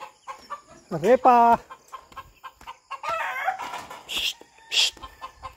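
A pet chicken or rooster on a rural Philippine farm makes short clucks and a rising crow-like call near the mic, mixed with a person shushing and speaking to it.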